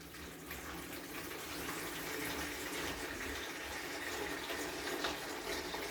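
Aquarium water being siphoned through a tube to pull dead matter and leftover food from the tank, a steady close rushing and gurgling flow that holds even for several seconds.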